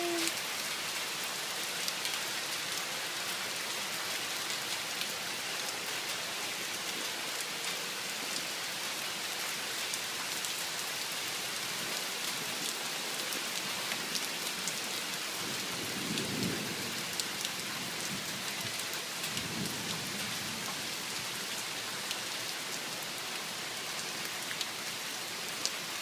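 A late-afternoon thunderstorm pours heavy rain over Lake Winnipesaukee in a dense, steady hiss, while low rolls of thunder rumble twice in the latter half.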